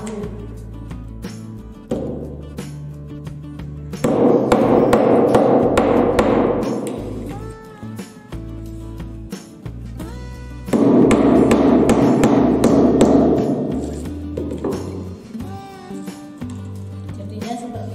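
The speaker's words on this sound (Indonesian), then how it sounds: "Kita pukul dengan palu." Rivets are hammered in with a hammer, giving repeated sharp metallic taps in steady bursts, close and loud, over a bed of background music.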